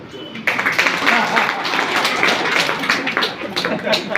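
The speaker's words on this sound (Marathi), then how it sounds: "बोर झाले असेल तर टाळी वाजवा" An audience at a health talk bursts into brisk, crowded applause that starts suddenly and carries on steadily, with a voice speaking over the clapping.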